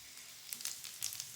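Chopped onion softening in two tablespoons of vegetable oil in a pan, giving a faint, steady sizzle with a few brighter crackling bursts, no voices.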